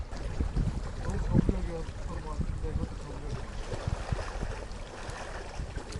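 Strong wind buffets the microphone at a lakeside fishing spot, a continuous rough rumble with gusts, along with low background voices and faint water movement.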